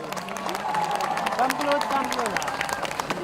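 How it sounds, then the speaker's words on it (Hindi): An audience at the Border 2 song launch event in Jaisalmer, Rajasthan applauds with dense, continuous clapping while someone speaks loudly over it. "आप सबके लिए जोरदार तालियां हो जाएं इनके लिए एक बार।"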